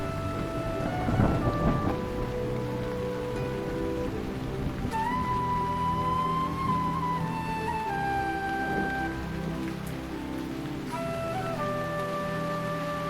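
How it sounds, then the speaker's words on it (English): Steady rain falls on a forest canopy in Shei-Pa National Park, Taiwan, with a low rumble of thunder near the start, while soft sustained musical tones play underneath. "Rain bathes the forest and saturates the soil, setting the stage for mushrooms to flourish."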